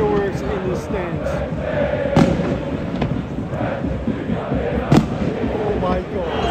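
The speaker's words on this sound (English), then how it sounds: "And fireworks in the stands." Several sharp firework bangs crack out over a roaring stadium crowd at a Zurich derby football match between Grasshoppers and FC Zürich, with a few louder pops standing out from the steady din.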